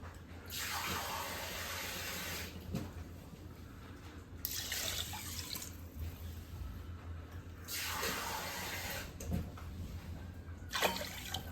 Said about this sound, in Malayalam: ഇനി നമുക്കിതിൽ വെള്ളം ഒഴിച്ച് വയ്ക്കാം.